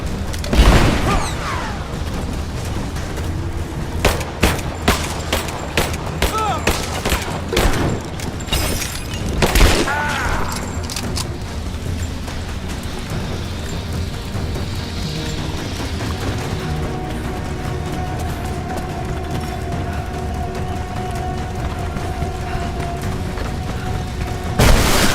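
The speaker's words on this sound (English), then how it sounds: "Suppressing fire!" Gunfire in the video game Rise of the Tomb Raider, rapid bursts of shots and heavy booms in the first ten seconds, then a quieter mechanical rumble with occasional impacts.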